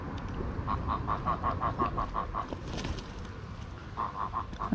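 Geese by the River Thames give a quick string of repeated honks, then pause before another short burst, moderately close over steady riverside background noise, with no voices.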